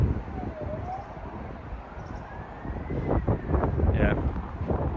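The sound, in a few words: siren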